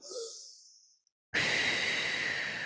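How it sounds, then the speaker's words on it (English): A soft breath out through the mouth tapers away, then after a brief silence a steady airy hiss of exhaling begins and continues at close range. "it may sound like you're breathing out like a straw"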